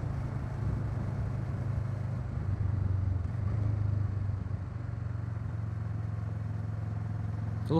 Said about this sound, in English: Hopefully you guys can hear the bike a little bit.